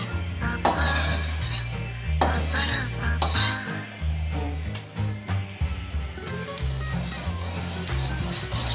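Metal utensils clink and scrape repeatedly against an iron pan while scrambled egg is stirred and drained for home-style fried rice, a close, busy series of taps and rattles.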